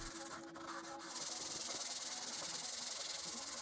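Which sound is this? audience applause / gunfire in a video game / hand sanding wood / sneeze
hand sanding wood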